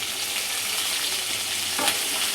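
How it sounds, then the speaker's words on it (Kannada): Capsicum, carrot and cabbage cut into long strips fry and get stirred in a pan for a paneer stuffed snack, giving a steady close sizzle with scraping stirs and no talking. "ಎಲ್ಲನೂ ಚೆನ್ನಾಗಿ ಫ್ರೈ ಮಾಡ್ಕೋಬೇಕು"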